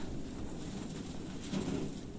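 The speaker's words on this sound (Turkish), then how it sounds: "bayağı rüzgar var" Steady gusting wind rushes across the microphone with a low rumbling buffet, continuous and fairly loud throughout.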